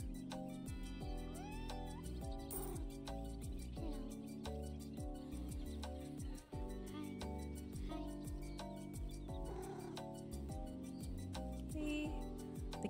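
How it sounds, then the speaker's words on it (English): A cat meows a few times inside the cozy street-management video game Minami Lane, the short calls rising out of a steady bed of gentle game music that plays throughout. "The cat is sleeping by the bikes, it's so cute."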